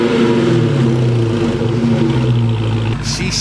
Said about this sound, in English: Let's see which one got a louder exhaust.